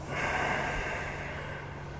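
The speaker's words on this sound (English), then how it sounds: "Exhale in the back, in the lower back." A single forceful breath pushed out through the nose during an iron shirt breathing exercise, close and sustained for about two seconds with a breathy, snorting texture, no speech.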